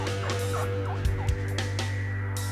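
A wild turkey gobbler in South Dakota gobbles close and loud in a few rapid rattling bursts, heard alone over steady background noise.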